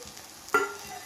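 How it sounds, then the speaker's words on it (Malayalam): Masala powders hitting hot oil with sautéed ginger, garlic, tomato and onion for chicken curry, giving a single short sizzle and stir that rises suddenly and fades quickly, close and fairly quiet. "അതിലേക്ക് നമുക്ക് മസാലപ്പൊടികൾ ചേർത്ത് കൊടുക്കാം."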